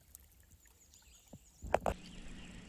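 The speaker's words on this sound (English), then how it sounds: "What this does is it makes a ripple on the water like that." A topwater bass fishing lure is reeled quickly across the surface, giving two short, close watery plops and gurgles after a quiet stretch.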